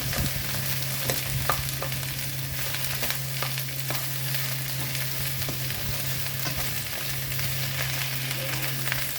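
Vegetables sauté in a pan with mushroom oyster sauce, a constant close sizzle broken by repeated spatula scrapes and taps, with a steady low hum beneath.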